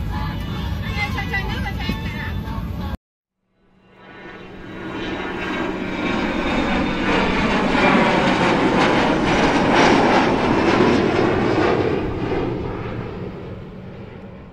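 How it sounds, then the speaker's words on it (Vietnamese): After a few seconds of talking, an airplane passes overhead with a swelling, broad roar that grows loud and holds steady for about ten seconds before easing slightly. "có một chiếc máy bay bay trên chúng ta đang gạ đua"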